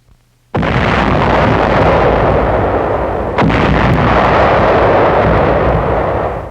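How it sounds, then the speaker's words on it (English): Naval shelling of enemy positions on Aka Island during the 1945 invasion, a loud sudden artillery blast followed by a sustained roar, with a second heavy report partway through. "Naval shelling softens up Jap positions on Aka Island in an early phase of the invasion"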